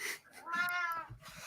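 A cat meows once, a drawn-out rising and falling call heard faintly and close by during a livestreamed Dungeons & Dragons session, with no talk over it.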